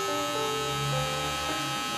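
Electric hair clippers fitted with a 0.75 guard buzz steadily while cutting a high fade, a continuous close motor hum with faint tonal harmonics running throughout.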